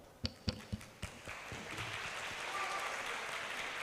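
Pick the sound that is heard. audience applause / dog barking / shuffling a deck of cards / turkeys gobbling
audience applause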